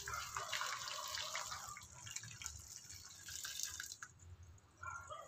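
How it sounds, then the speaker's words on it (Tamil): Hot water is poured into a cooking pot of basmati rice for ghee rice, a faint trickling and splashing pour that runs for several seconds with small pauses, quiet and close, with no talking. "இந்த ஸ்டேஜில் நான் இதில் தண்ணி ஆட் பண்ண போகிறேன்."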